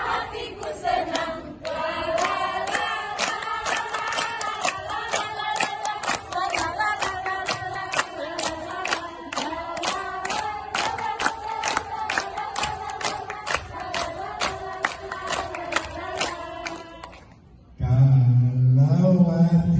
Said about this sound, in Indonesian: Kalau hati senang, tepuk tangan.